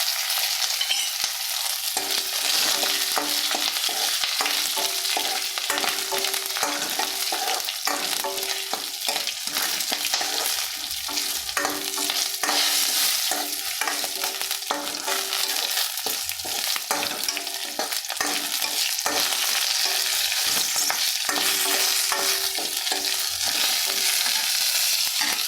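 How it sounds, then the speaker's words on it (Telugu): Cumin seeds fry in hot oil in a pan while being stirred for a ridge gourd chutney, giving a steady close sizzle with scraping stir strokes throughout and no talk. "ఇప్పుడు కొంచెం జీలకర్ర వేసుకుంటున్నాను."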